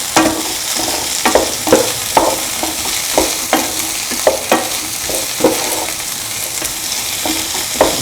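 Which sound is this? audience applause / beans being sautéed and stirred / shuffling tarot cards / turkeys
beans being sautéed and stirred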